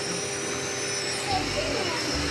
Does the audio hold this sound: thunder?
no